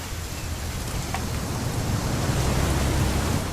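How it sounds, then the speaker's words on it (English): Rain in the video game What Remains of Edith Finch falls as a dense, steady hiss and wash of drops, with no voices over it. "It's gonna rain the whole weekend"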